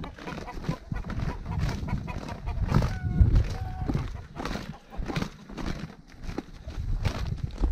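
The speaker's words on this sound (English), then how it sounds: "If you ever needed to know how to herd chickens, get yourself a sorting pole with a flag on it." Chickens in a barnyard cluck and squawk in scattered bursts while being herded with a sorting pole topped by a flag, with rustling and footsteps close by.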